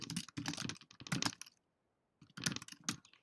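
Close, brisk typing on a computer keyboard, entering an answer into an online exam chat: clustered bursts of clicks, a pause of under a second, then a few more keystrokes, with no voices.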